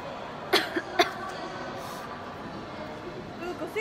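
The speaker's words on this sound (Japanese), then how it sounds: "なんか咳してるやん。" A couple of short, sharp coughs sound close by near the start, then a quiet indoor room hum follows with faint background movement.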